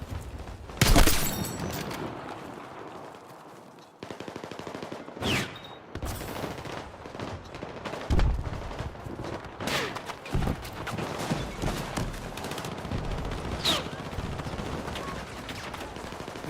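Battlefield 6 gunfire: scattered sharp shots and short bursts crack at irregular intervals, some loud and close, others distant, over a steady background of battlefield noise.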